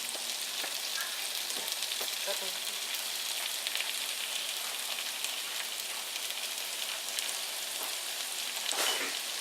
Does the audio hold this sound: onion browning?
yes